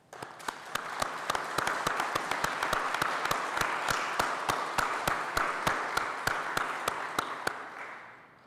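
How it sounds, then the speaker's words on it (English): Applause from a crowd at a Scout troop's Eagle Scout Court of Honor, with grandparents and family members being recognized; dense steady clapping with a few sharp near claps runs for about eight seconds before fading. "Let's give them a round of applause"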